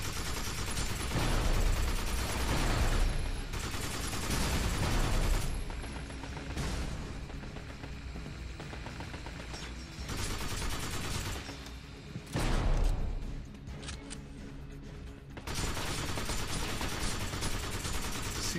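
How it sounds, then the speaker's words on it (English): Bursts of light machine gun fire in the video game Binary Domain, loud and sustained with short pauses between long rattling volleys, mixed with game explosions and no talking. "Ah, light machine gun."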